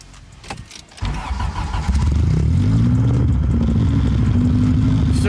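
A car engine cranks and catches after a brief clatter, then settles into a loud, steady idle with rising harmonics, close by and with no talk over it.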